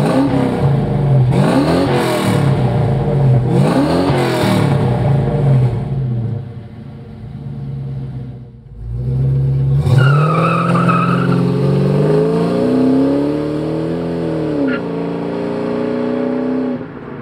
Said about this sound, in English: let's check out some sound clips of this mid-pipe paired up with Mac's catback exhaust